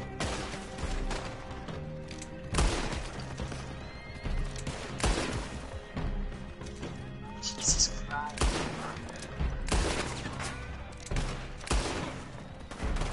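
Bursts of gunfire in a Red Dead Online shootout defending the town of Valentine from a gang, sharp repeated shots in clusters mixed with horse whinnies and hoofbeats, with a player talking over the action.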